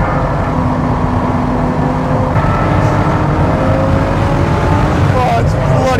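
A Ferrari LaFerrari hybrid drives hard on a track, its engine roaring loud and constant from inside the cabin as it powers out of corners, with someone talking over the noise.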